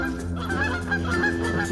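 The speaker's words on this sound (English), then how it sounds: "Here come the geese." Geese honking repeatedly at a local waterside spot with a turtle nearby, a steady chorus of overlapping nasal honks at moderate distance, with no talking.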